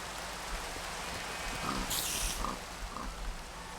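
Pigs in a tabletop game setting give a few short grunts and oinks, soft and moderately close, spaced over a steady rainy hiss, with a brief burst of bright noise in the middle.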